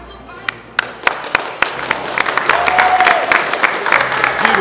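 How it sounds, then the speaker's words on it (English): Audience applause for the winner of a bodybuilding wellness posedown, rising into sustained clapping with scattered sharp claps at first and a voice briefly heard over the crowd. "Big round of applause for our winner, Virginia."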